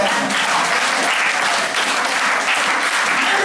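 A church congregation applauds in praise during a worship service, a dense, steady wash of clapping that fills the space without pause, with faint voices mixed in underneath.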